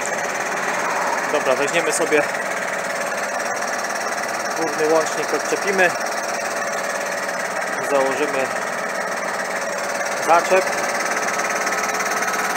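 A John Deere 6155R tractor engine idles steadily while warming up, a constant mid-loud drone with faint knocking, as someone talks over it near the machine with occasional metallic clanks.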